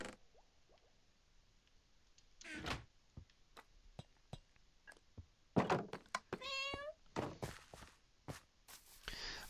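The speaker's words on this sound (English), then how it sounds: "I hear you, kitty." A cat meows once, a short, rising call in the middle of scattered footsteps and thuds, faint to moderate, among quiet room sounds with some brief voice sounds.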